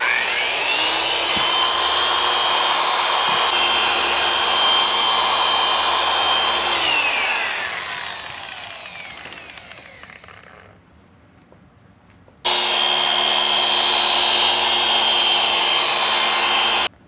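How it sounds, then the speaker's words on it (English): A car polisher buffs paint that was wet-sanded with 1500 and 3000 grit, a loud steady whirring drone that winds down and stops, then starts again abruptly at full volume. "Let's polish this and see where we're at."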